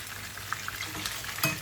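Prawns fry in hot oil for a sweet-sour prawn dish, giving a brief, soft, steady sizzle with a few faint crackles near the end.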